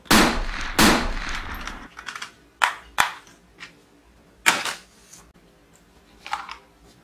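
A colorful plastic Chinese toy pistol fires in sharp cracks: a couple of loud bursts at the start, then scattered single snaps and rattles with quiet gaps between, close up and without speech.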